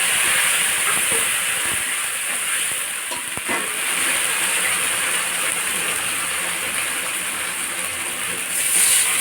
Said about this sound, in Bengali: তো আমি একটু তেলের উপরে মশলাটা দিয়ে নেব।